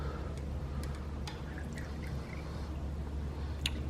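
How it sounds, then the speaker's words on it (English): A shot dispenser pours a drink into a shot glass with a soft, steady trickle and drip under a low background hum, with a few faint clinks. "you put the shot glass here and then you push it up and then it'll drip down"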